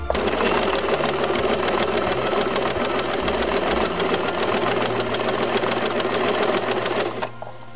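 An Usha Janome sewing machine stitching thread at slow speed gives a close, steady, rapid mechanical clatter that runs continuously, then stops just before the end.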